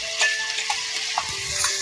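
Potato curry frying in a pan hisses steadily as prepared masala is stirred through it, with small ticking spoon knocks over the sizzle.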